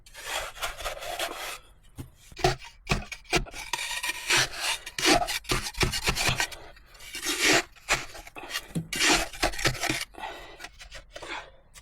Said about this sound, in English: Sawing more smaller wooden beams from a birch log